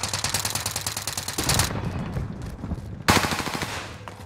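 Rapid automatic gunfire rattles in a Fortune's Keep shooter match. One dense burst runs, then a pause, then another loud burst starts, with the rounds coming in close, fast, regular bursts.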